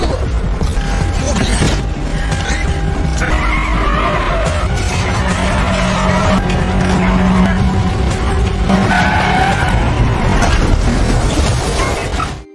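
A car in a film scene skids with squealing tyres and rattling metal before crashing into a building, sustained and loud, while a narrator talks over it.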